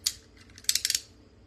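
Scissors cut craft material for a double heart DIY, close and crisp: a single snip, a short pause, then a quick run of four snips before quiet returns.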